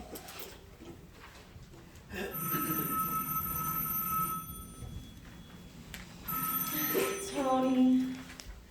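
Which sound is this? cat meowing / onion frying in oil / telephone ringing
telephone ringing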